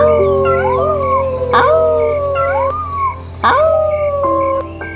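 Several cartoon foxes howl at night behind an old man's house by a dense jungle, overlapping rising and falling wails, loud and close, with sharp yips cutting in over a steady background hum.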